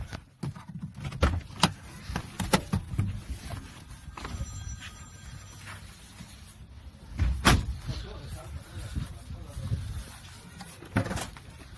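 On a 2000 Toyota Land Cruiser Prado, the side-hinged rear boot door is handled with a few sharp clunks and latch clicks, plus some rattling, while a person talks throughout.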